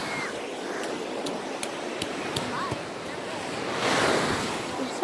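Ocean surf at Santa Monica Beach, a steady wash of waves with wind noise on the microphone, swelling louder near the end, with faint voices in the background.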